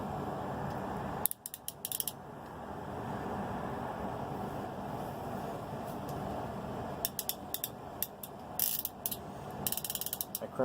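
Ratchet crimping tool squeezing servo extension terminals: a low hum through most of the clip, then bursts of quick clicking ratchet teeth and snaps of the jaws, close up, no talking.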